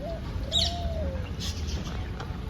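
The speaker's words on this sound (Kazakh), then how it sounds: "Неше түрлі құстар бар екен." Birds in an aviary at a safari park in Tashkent give a brief whistled call and a few faint chirps over steady low background noise.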